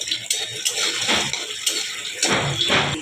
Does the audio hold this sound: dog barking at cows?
no